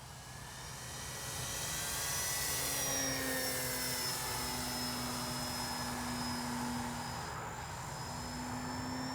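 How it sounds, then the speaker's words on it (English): A Dynam DHC Beaver V2 RC airplane makes a high-speed pass down a runway, its steady propeller drone holding loud and close for the full pass and easing only slightly toward the end. "Let's make a high-speed pass, well, as fast as this thing goes right down the runway."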